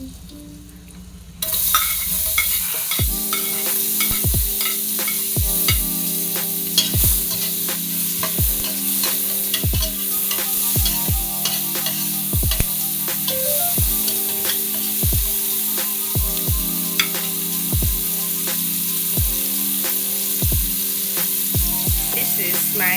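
Chopped onion sizzles in a hot pan with a loud, continuous crackle, punctuated by regular scraping taps of a utensil stirring it, heard up close throughout.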